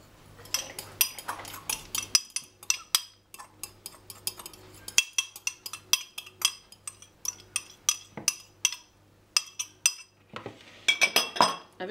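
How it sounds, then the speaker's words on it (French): Metal utensil clinking and scraping against a bowl while butter is mixed, a steady run of sharp, close taps and clatters with brief pauses, no talking. "Tu mélanges d'abord le beurre."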